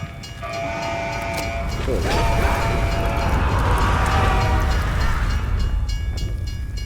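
Train rumble from the Call of Duty zombies map Mauer der Toten: a loud, steady rolling drone that swells midway, topped by sustained horn-like tones, with a brief spoken word over it.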